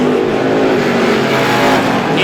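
Race cars roaring around Star Speedway during a feature race, a loud continuous engine drone at close range with no pauses across the whole stretch.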